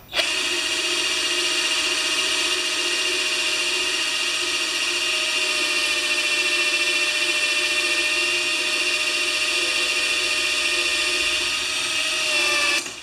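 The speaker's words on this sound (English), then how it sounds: "I'm going to drill this out" A power drill drills out a hole in a 1973 Briggs tiller part, whining at a constant high pitch for over twelve seconds, close and loud, with a brief wobble just before it stops.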